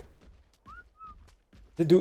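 Two short, faint creature whistles from ARK Genesis 2 gameplay, spaced apart against a quiet background, followed by a burst of speech.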